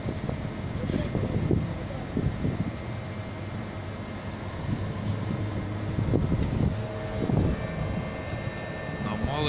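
Outdoor unit of a Haier AV14IMSEVA air conditioner during defrost, its fan spinning at full speed with a steady broadband whoosh and low hum throughout, while someone talks over it at moderate level.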